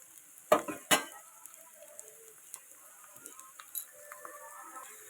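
Onion, red chilli and ginger fry in a pan, opening with two sharp metal clanks from a spatula, then a quiet, sparse sizzle with occasional light scrapes.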